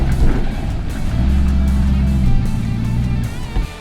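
A 1965 Jeep Gladiator truck drives along with a loud, close, steady low engine rumble and road noise, holding an even drone throughout with slight rises and falls in pitch.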